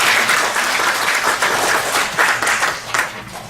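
An audience at a lecture claps enthusiastically, a dense, sustained burst of applause from a room full of people.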